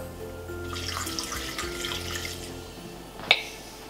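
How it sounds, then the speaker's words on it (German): Tap water, 300 grams, pours steadily into a Thermomix TM5 mixing bowl over berries for a berry liqueur, a continuous close splashing rush that ends with a brief clunk. "So, 300 Gramm Wasser."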